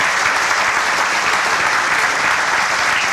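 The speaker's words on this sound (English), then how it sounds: "let's give a round of applause to every one of those donors who has helped with that" Dense, steady applause from an audience at the Dowdy-Ficklen Stadium southside renovation groundbreaking, a loud continuous wash of clapping honoring donors, close and unbroken for the few seconds heard.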